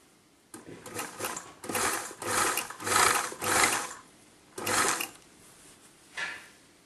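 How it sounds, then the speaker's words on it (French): A sewing machine stitches a cape in a series of loud, whirring mechanical bursts of about half a second to a second each, with short stops between runs. "On va pouvoir coudre."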